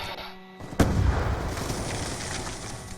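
A grenade goes off in Black Ops 2 online multiplayer: after a quiet lull, one sharp, heavy blast hits, then a rumbling, noisy decay trails on to the end.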